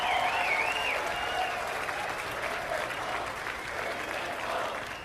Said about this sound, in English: Ladies and gentlemen, a round of applause for Adrian Woolley leading the charge in the entire country.